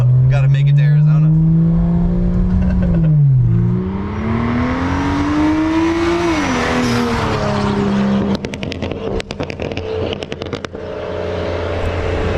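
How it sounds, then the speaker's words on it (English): Bagged BMW 335i E92 revving hard as it accelerates, with loud, sharp exhaust pops crackling in a rapid burst near the end. The sound is close and dominant, and voices are heard along with it. "those pops are so loud"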